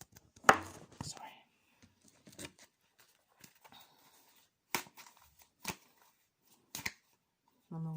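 Soft, sporadic riffling and flicking of playing cards, with short quiet gaps between bursts and faint murmuring in the background.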